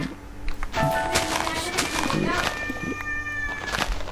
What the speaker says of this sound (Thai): แมวแมวแมวครับอย่าไปสนใจครับ